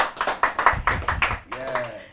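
Quick rhythmic claps from a crowd welcoming a performer at a Malian rap event, sharp repeated bursts under voices talking over them.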